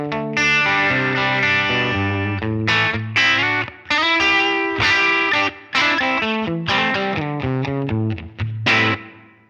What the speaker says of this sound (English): put our dynamic room reverb in there